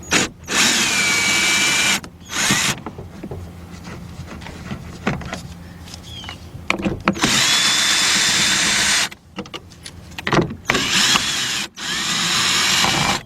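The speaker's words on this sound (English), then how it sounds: "You can use a shallow or you can use a ratchet, either one. Take those 3 bolts out of there." Bolts being backed out of a 2011-2014 Mazda 2 window motor with a ratchet, several loud bursts of whirring tool noise separated by short pauses and clicks, close up with no talk.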